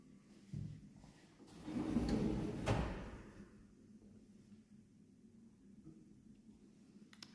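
Kitchen drawers to the right of an oven in an apartment slide and bump shut, a cluster of muffled knocks and rolling scrapes in the first three seconds, then a quiet room.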